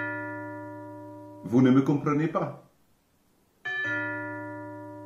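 A doorbell sounds a sustained, ringing ding-dong tone, then a voice speaks briefly in French, and the chime rings out again afterward, clear and close.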